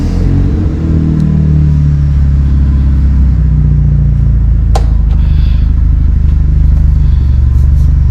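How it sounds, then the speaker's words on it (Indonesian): A car engine fitted with an HKS aftermarket exhaust revs loudly and close, its pitch climbing and settling into a deep, throaty exhaust drone, with a brief click partway through. "Nah, ini knalpot HKS."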